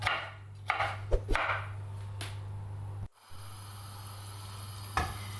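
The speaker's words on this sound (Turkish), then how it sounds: "2 adet domatesimizi yine iri bir şekilde doğruyoruz" A knife coarsely chops two tomatoes on a cutting board in a home kitchen, making a few irregular, sharp chops over a steady low hum, with a quiet stretch in between.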